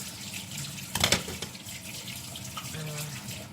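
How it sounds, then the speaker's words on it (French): Tap water runs into a sink as hands are washed under it, a soft steady hiss with a brief louder splash partway through, in a home kitchen. "Je me lave les mains, j'arrive"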